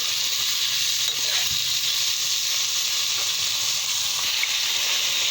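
Bitter gourd sautés in an open, uncovered wok, producing a continuous even sizzle and hiss close by, with a faint utensil knock or two and no voices.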